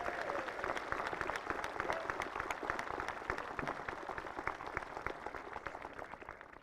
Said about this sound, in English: Let's give all of our speakers a one good round of applause.